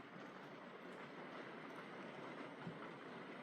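A Class 37 DCC model railway locomotive fitted with a modern sound decoder runs steadily, giving a continuous, even rumble with faint rail clatter throughout and no talking.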